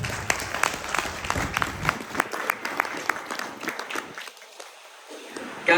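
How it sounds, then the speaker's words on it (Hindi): An audience applauds a speaker at a talk or seminar, claps fairly close and irregular, thinning out over the second half before a brief louder burst at the end. "सर के लिए एक जोरदार ताली हो जाए।"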